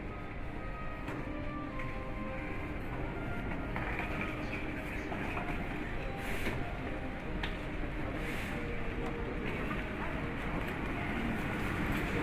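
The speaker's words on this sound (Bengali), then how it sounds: "এই যে মেট্রো এলো, গেট খুলবে," An airport metro train pulls into a station at Hamad International Airport in Doha, a continuous low rumble and whir of the arriving cars filling the space, close and steady, with no talk over it.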